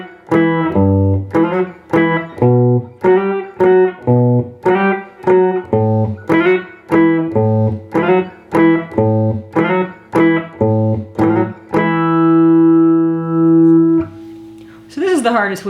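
Electric guitar playing rhythmic sliding octave shapes over bass notes, a steady pattern of repeated chords that ends on a long sustained ringing chord; loud and close, no talk.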